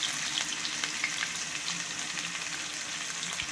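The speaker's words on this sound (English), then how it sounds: "Now let this onion fry till golden brown" Five medium onions frying in oil for a fish biryani give a steady, close sizzle with faint crackles and stirring scrapes running evenly throughout, with no voices.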